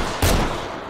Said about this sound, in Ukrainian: Зомбі стріляє.